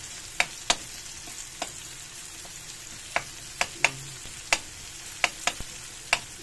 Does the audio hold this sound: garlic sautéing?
yes